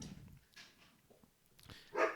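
A dog barks a few times in the background during a podcast recording, faint and distant, with short separate yips and a slightly louder bark at the end.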